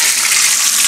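Rabbit pieces frying in hot oil, a loud dense hiss and crackle of sizzling, close up and continuous for a brief moment with no voices.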